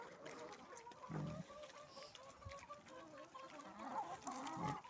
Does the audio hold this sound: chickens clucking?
yes